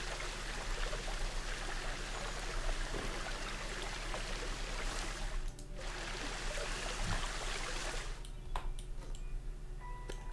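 Water flows steadily in a Planet Zoo enclosure, a constant broadband rush with occasional faint ticks, loud and close throughout.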